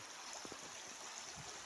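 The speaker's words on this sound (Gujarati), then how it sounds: "કેવું સરસ મજાનું પાણી જાય છે નંદીમાં નીર।" River water flowing after fresh rain refilled a dried riverbed, a faint continuous rushing wash with soft gurgles underneath, steady and fairly distant.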